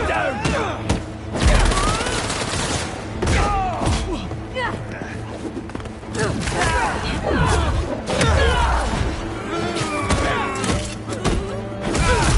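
Gunfire in Spider-Man 2 during a chaotic fight, with sharp bursts and thuds scattered throughout, mixed with crashes and busy voices talking over the action.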